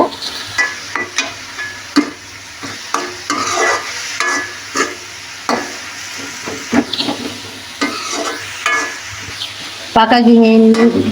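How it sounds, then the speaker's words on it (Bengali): Red amaranth greens (lal shak) stirred in a frying pan with a spatula, giving repeated scraping strokes over a steady close sizzle and the clink of the pan, ending in a brief tonal sound. "এভাবে নাড়াচাড়া করে দিব।"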